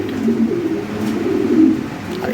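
A male fancy pigeon coos in low, rolling, repeated calls close by, steady throughout the short stretch with no one talking over it.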